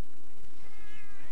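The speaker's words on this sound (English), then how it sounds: "Oh, important thing to note, I have a cat." A pet cat meows once, close and fairly clear, a short drawn-out cry against a quiet indoor background.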